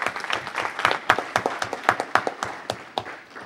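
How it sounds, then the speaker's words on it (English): Audience applause at a council meeting: a small group clapping in clear, distinct, fairly close claps with an uneven rhythm, fading slightly toward the end. "So everyone, please, round of applause one more time."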